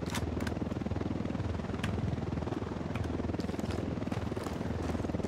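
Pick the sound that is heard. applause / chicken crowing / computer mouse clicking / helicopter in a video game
helicopter in a video game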